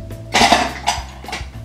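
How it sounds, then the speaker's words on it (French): A set of makeup brushes is grabbed and shaken, giving a few short clattering rattles close by, about three quick bursts within under two seconds. "Désolée pour le bruit, j'attrape mes pinceaux,"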